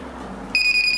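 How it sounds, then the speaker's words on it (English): A highway speed checker sounds an electronic buzzer for an over-speed vehicle, a sharp high-pitched beeping that starts abruptly halfway through the short clip after a low hum. "And buzzer is beeping."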